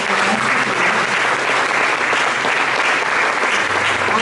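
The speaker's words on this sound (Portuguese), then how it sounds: "Aplauda ao Senhor." A congregation applauds during a Methodist church service, steady dense clapping filling the room at full volume throughout, with no talk over it.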